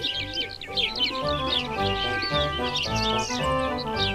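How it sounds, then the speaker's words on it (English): Many small birds chirp and tweet in a busy chorus around a birdhouse at a railway shed, close and overlapping over a faint steady musical background. "There were now more birds chirping than ever before."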